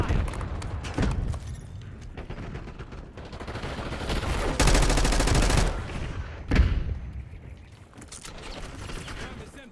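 Call of Duty gunfire sounds in sustained, loud automatic bursts mixed with mechanical clatter, peaking in a dense roar midway, while game radio chatter speaks intermittently around it.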